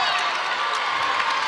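A high school girls' basketball crowd at McBrayer Arena, tied late in a regional championship game, roars steadily with cheering and shouting, a dense sustained wall of voices.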